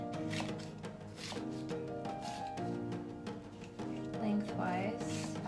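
A knife chopping vegetables on a board for chili, a run of sharp, close taps in an irregular rhythm under a quiet, busy background.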